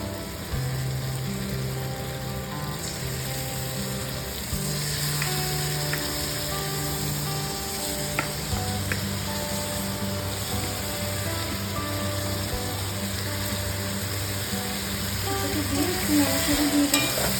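Chicken pieces sizzle and fry in a hot pan of oil and mustard paste for a homemade chicken biryani, a steady crackling hiss with occasional stirring scrapes, close and continuous throughout.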